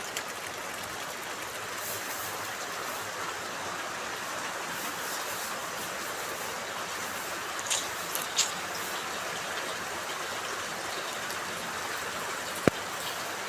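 Steady rain falling outdoors in a rural village, a continuous broad hiss that fills the whole stretch at an even level, with a couple of faint clicks and one brief sharp tap near the end, no talking.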